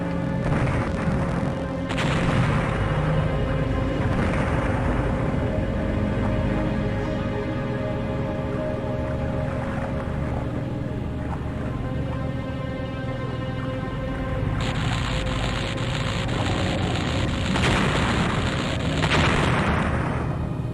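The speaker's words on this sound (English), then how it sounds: "The explosion sounds are very good." Heavy booming explosions and blasts in a submarine video game, repeated throughout in loud, dense rumbling bursts with no pause.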